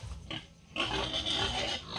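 Young gilts at a pen squeal and grunt continuously while being fed a feed supplement, a close, loud chorus of overlapping pig noise that swells after a brief lull.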